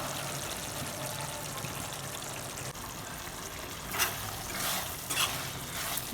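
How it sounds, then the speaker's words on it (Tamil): Chicken gravy for a Kolakkudi-style chicken fry sizzles steadily in a pan, with a few louder scraping stirs near the end. "இதே மாதிரியே மூடி வைக்காமல் இதே மாதிரியே கிண்டி விட்டுட்டே இருங்க"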